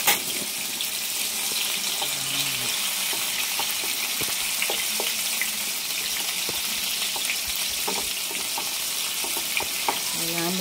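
Tomatoes sautéing in a hot pan for bangus sisig, a steady loud sizzle with light stirring clicks and scrapes throughout, no talking.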